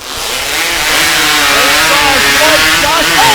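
High-powered hot saw cutting timber in a woodchopping race, a loud continuous screaming engine roar rising in pitch as it bites into the log, with an excited commentator shouting over it.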